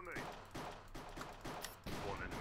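Pistol gunshots in the Minecraft Cops and Crims game mode, several sharp shots fired in a quick uneven rhythm at a fairly quiet level, each one trailing off after its crack.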